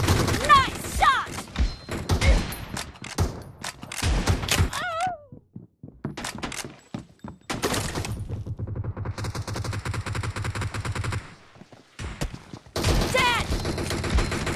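Gunfire in the PUBG Mobile shooter game, Gun Game mode: rapid bursts and single loud shots crack repeatedly, with a sustained stretch of automatic fire in the middle, and excited voices talking between volleys.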